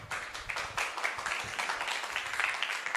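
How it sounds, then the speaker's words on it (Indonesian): An audience applauds at a student debate, with rapid overlapping claps at a moderate distance that keep going steadily. "Oke, tepuk tangan."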